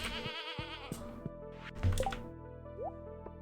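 Goats bleat on a farm in the Stardew Valley video game, with a wavering bleat at the start followed by soft dripping and plopping sounds.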